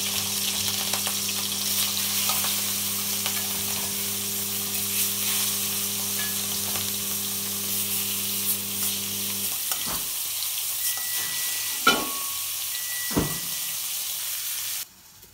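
Rohu fish frying in a pan, giving a strong steady sizzle and hiss close up with a low hum beneath for most of the clip, then a few sharp clinks as the frying carries on until an abrupt stop.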